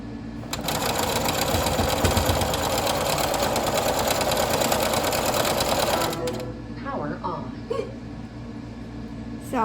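A sewing machine runs steadily, chain stitching paper quilting pieces in one continuous loud whir for about six seconds, then stops, leaving a few handling clicks and soft rustles.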